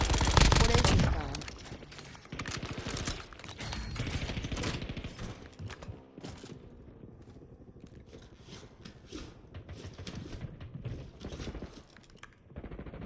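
Gunfire in the Call of Duty Warzone video game, with dense bursts and rattling volleys early on that thin into scattered shots and mechanical clatter as a match plays out.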